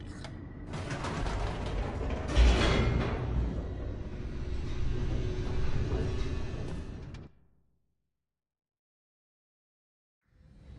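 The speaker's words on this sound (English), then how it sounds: "The elevator raced downward, plummeting towards an unknown fate." A descending elevator in The Stanley Parable Ultra Deluxe video game gives a sustained mechanical creaking and grinding rumble for about seven seconds. The sound then cuts off abruptly into silence, with no talk.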